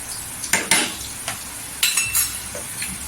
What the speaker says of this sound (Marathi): इथे लसूण गोल्डन झालेली आहे मिरची पण छान भाजलेली आहे टाकायची